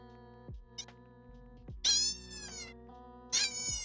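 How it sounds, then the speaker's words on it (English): Recorded cat meows played through a phone speaker indoors: two drawn-out, wavering meows rising and falling in pitch, fairly close, over a faint steady electronic hum. "I'm gonna try to play this cat sound on my phone"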